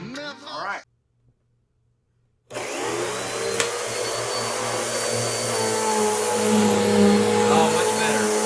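A Bissell, Dirt Devil, Dyson, Shark or Miele-type vacuum cleaner that had become hard to push or pull, running after repair: after a short silence the motor starts and runs steadily and loudly, a broad whooshing roar with a high whine; a voice speaks briefly first.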